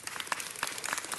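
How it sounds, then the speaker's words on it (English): Brief burst of audience applause at a council district women's steering committee event, dense mid-distance clapping from a crowd lasting only about a second. "Connie Thomas, give her a round of applause."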